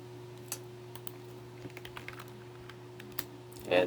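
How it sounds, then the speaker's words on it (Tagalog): Computer keyboard keys are pressed during Flutter app development work, a quiet scattering of individual clicks spaced unevenly, ending with a louder burst of key noise. "hold the control, and then followed by pressing the dot button sa keyboard"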